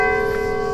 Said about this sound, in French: Elle me sonne les cloches.